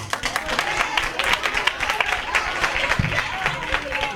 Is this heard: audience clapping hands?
yes